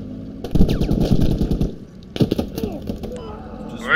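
Machine gun fire in the military shooter game Squad, rapid bursts of shots rattling loudly, then a second shorter burst after a lull, with a voice talking over parts of it.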